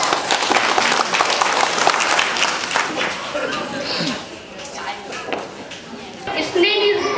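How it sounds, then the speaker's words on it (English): A school audience claps for a student about to speak: a loud, dense burst of applause that thins and fades midway, then swells briefly again near the end, with some voices mixed in. "so please clap it for her."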